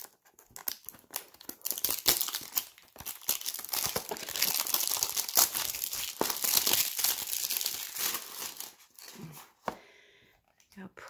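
Plastic wrapping on an iMethod eyebrow product box crinkles and crackles steadily for several seconds, close and fairly loud, with a few sharper rustles and a pause near the end.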